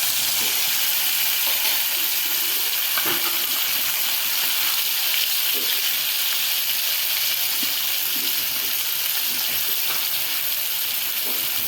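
Steady, loud sizzling hiss of ground red chili spice paste frying in hot oil until red, continuous throughout with faint clinks and bumps underneath.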